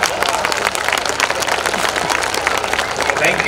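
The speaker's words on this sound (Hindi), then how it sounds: "एक बार आप तालियां बजाइए उन सभी टीचर्स के लिए जिन्होंने इस प्रोग्राम को तैयार किया" A school event audience applauds teachers, giving dense, sustained clapping that fills the room at an even loudness, with some crowd murmur underneath.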